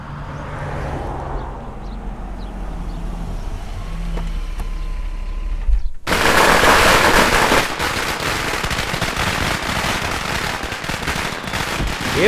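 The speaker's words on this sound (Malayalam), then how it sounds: "ഏത് ഭ്രാന്തരാണ് ഇവിടെ പടക്കം പൊട്ടിക്കുന്നത്?" Firecrackers bursting at a wedding celebration, a dense, loud crackle of rapid pops and bangs that erupts suddenly partway through and keeps going under a steady roar, following a quieter stretch of background commotion.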